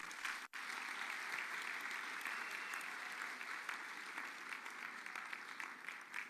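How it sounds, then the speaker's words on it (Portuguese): A crowd welcoming Pastor Jalino bursts into sustained, even applause that stays full and continuous for several seconds, without any clear speech on top. "Uma salva de palmas."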